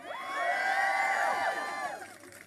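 A rally crowd outside the Supreme Court cheers and whoops, a loud swelling burst of many voices that peaks and then fades away over a couple of seconds.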